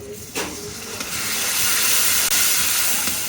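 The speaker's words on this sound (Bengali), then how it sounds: "মশলাটা কষানোর জন্য দিয়ে দিচ্ছি পানি" Water poured onto spice paste of turmeric, chili and coriander powder with salt, frying in a village kitchen pan, a sharp bump then a loud, steady hissing sizzle that swells and holds to the end.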